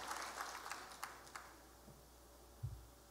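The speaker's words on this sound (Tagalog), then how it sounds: "Grabe po ang hina ng palakpak na yan." Thin, scattered applause from an audience at a product sales event, faint and distant, with light clapping that trails off and no speech over it.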